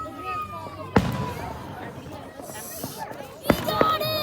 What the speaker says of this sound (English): The fireworks show!